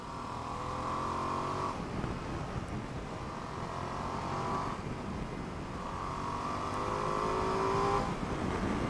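A 2025 Ducati Multistrada V2S engine accelerating through a corner, with a loud steady drone that rises in pitch three times as the revs climb past 6000 rpm, and wind noise underneath.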